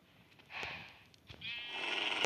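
Minecraft sheep let out a few short nasal bleats in the game, two or three calls in quick succession at moderate level with no talk over them.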